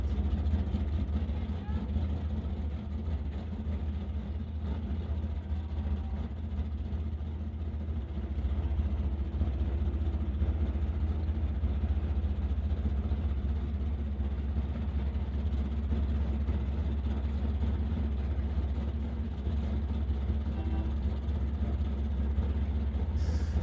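At an NHRA Summit ET drag strip, a 1986 Oldsmobile Cutlass with a custom exhaust races a Chevrolet Malibu. Heavy, continuous low engine rumble fills the track while an announcer talks over it throughout.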